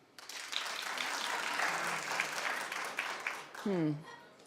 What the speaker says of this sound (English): clap if you think that's too much